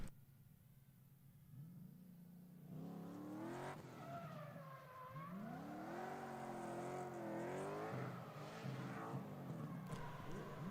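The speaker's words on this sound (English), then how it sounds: "Up next is going to be that 3UZ S13 from Daniel Morris coming in for his bye run as well" A 3UZ V8-swapped Nissan S13 drift car makes a bye run at a pro-am drift series round. Its engine rises and falls in repeated sweeping revs, growing louder and closer, with rough tire noise mixed in.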